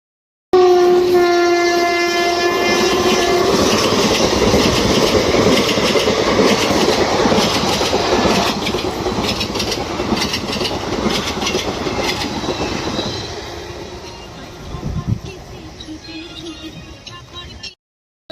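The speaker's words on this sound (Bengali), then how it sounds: "এরপরে এবারে একটা ট্রেন আসবে" A train rumbles past loudly with a long horn blast at the start, the roar of wagons continuing and slowly fading toward the end.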